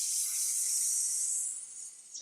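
A person imitates an angry cat with one long, loud, breathy hiss held close to the microphone for about two seconds before it fades out.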